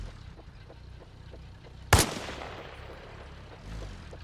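A single sharp armor-piercing gunshot striking a vehicle in the Arma Reforger video game, one loud close crack with a brief decaying tail over a low steady background rumble.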